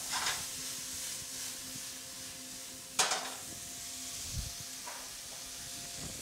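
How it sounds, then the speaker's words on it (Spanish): Green tomatoes with garlic sautéing in a pan, giving a steady close sizzle and hiss with a sharp clatter of stirring near the middle and light scraping after. "Salteamos."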